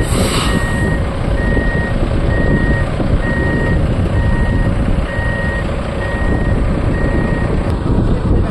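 A bus reverses at the Dangay Roxas ferry port, its backup alarm sounding a steady, evenly spaced series of about nine loud beeps over a constant low engine rumble and outdoor noise.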